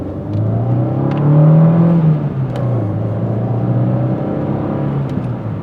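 An Opel Ascona engine revs up from idle and drops back, its low throaty drone swelling and easing in a steady, close, loud run with no talking.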